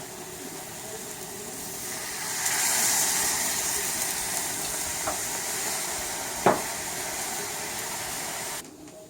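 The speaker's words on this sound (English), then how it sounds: "Add some water to the steak to kind of give it a little bit of browning" Water poured onto browning steak pieces in a pan for a green chile stew flares into a loud steamy hiss that swells, then settles into a steady sizzle with a couple of sharp pops, no talking.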